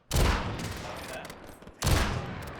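Gunfire erupts in Call of Duty Warzone, two loud close bursts of rapid shots with a ringing tail between them.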